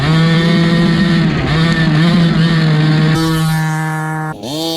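A gas-powered RC monster truck engine still on break-in, held at half throttle: a loud, close, buzzing two-stroke drone with a steady pitch that shifts slightly, then drops and briefly revs back up at the end.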